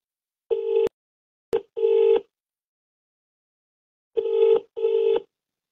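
A phone ringback tone sounds in paired pulses, a short double ring, a long silent gap, then another double ring, clear and steady.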